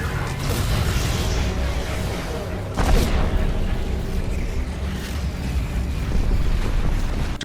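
A blast from an energy cannon in an animated sci-fi battle against an insectoid army, a dense roaring rumble with a sharp boom surging about midway and sustained noise throughout, loud and close.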